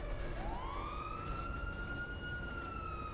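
A video game police car siren wails steadily, rising into a sustained high tone with layered harmonics over a constant rumbling engine drone.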